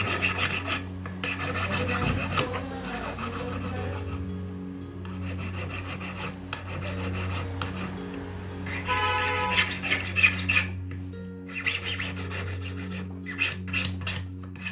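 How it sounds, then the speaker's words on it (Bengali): Pink gold jewelry has its sides filed down by hand, a close, steady rasping of metal strokes repeating throughout with brief pauses and no voices. "দু সাইড একটু ঘষে নিচ্ছি যাতে পাতলা হয়ে যায়"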